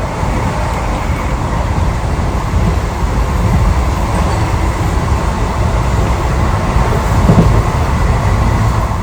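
A passenger train heading toward Vadakara, Kerala, runs on its rails with a loud, continuous rumble and rattle from onboard. The noise holds steady throughout.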